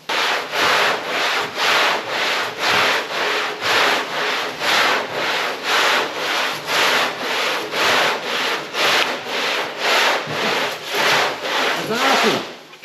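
Wood under hand sandpaper in long, steady back-and-forth strokes, roughly fifteen even rasping passes at close range, loud and continuous with no talking.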